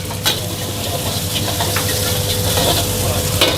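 Egg, spring onion and garlic stir-fry for seafood fried rice, giving a steady loud sizzle with occasional scraping stirs and no voices.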